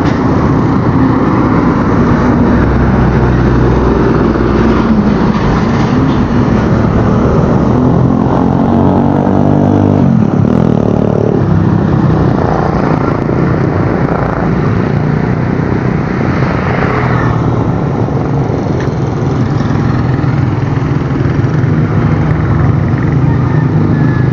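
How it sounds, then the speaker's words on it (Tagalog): Steady roar of highway traffic under a dark, overcast sky in the Philippines while waiting at the roadside for a tricycle. A continuous broadband rumble of passing vehicles swells and fades, with no voices. "Dito na tayo sa highway."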